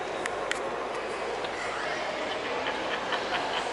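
Broad, echoing noise inside Newcastle railway station, a Victorian structure, with a steady rumble and scattered metallic clicks and clacks, like train wheels passing at a distance.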